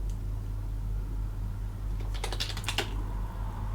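Quick keystrokes on a computer keyboard come as a short burst of about half a dozen clicks after a stretch of low fan hum, entering a Linux update command.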